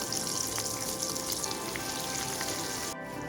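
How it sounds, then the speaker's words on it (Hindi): Chicken macaroni kababs fry in hot oil with a dense, steady crackling sizzle that fills the whole moment, close and fairly loud, with a short break near the end and no talking. "दूसरों को भी हम इसी तरह फ्राई कर लेंगे।"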